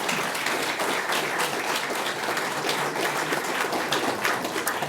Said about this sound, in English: Let's have a round of applause for Vincent.